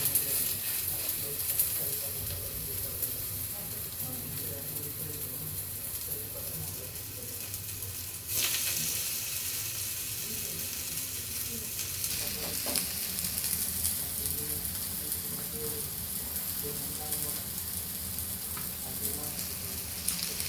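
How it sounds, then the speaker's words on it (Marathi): Chicken kabab sizzles steadily on a hot tawa over a low gas flame, a continuous close frying hiss with a brief scrape or stir partway through, with no talking. "कमी गॅसवर थोडा वेळ परतून द्यायचे"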